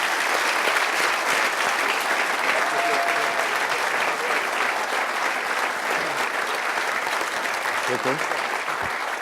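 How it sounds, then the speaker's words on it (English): Sustained audience applause closing a security conference session, a dense steady wash of clapping from a large crowd that holds at an even level for the full stretch. "one other hand of applause for these guys"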